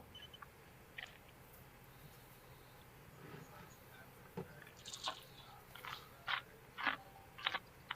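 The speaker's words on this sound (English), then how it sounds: "I hear crunching." Crunchy chewing close by in a quiet room, with faint scattered crunches at first and sharper, louder bites clustered in the second half.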